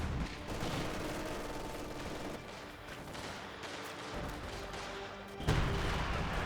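A grenade blast and volleys of gunfire in the World War II strategy game Company of Heroes 2, dense overlapping shots and rumbling booms filling the whole stretch, loud and continuous with a sharper burst near the end.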